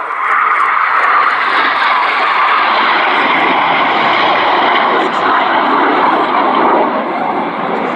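Red Arrows Hawk jets roar overhead at an air display at Old Warden Shuttleworth, a loud, sustained engine rush filling the whole stretch while a commentator talks over it.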